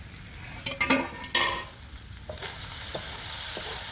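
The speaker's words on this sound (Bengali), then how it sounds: "খুব ভালো মতন ভাজা হয়ে গেছে" Chira pulao of flattened rice crackling and sizzling in a hot pan while being stirred, with a few sharp scraping strokes early on and then a steady frying hiss, no talking.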